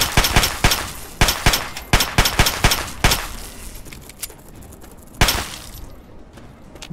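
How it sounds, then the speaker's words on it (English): Pistol gunfire in Fallout 3: a rapid series of sharp, loud shots in quick bursts, then a pause and one more loud crack before the sound fades. "Let me just kill you with the pistol."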